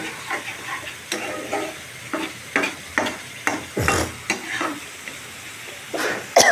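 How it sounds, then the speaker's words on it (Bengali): Spice paste fries in hot oil in a home kitchen while being stirred, a steady close sizzle broken by repeated scraping strokes of a spatula against the pan, with no voices. "ভাজা হচ্ছে"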